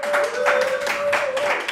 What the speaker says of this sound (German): Großer Applaus für ihn.